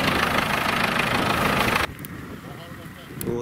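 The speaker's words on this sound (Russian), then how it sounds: "Вот едет наш трактор." An MTZ Belarus 920.4 tractor engine runs loudly as the tractor approaches, a dense rumbling roar that drops abruptly partway through to a quieter, steadier drone.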